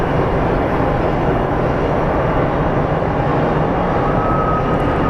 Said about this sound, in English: up next is a WestJet coming from Vancouver. It's a Boeing 737 MAX.